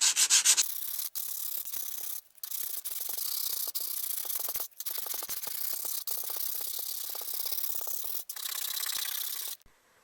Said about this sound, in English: And so then here's the sanding.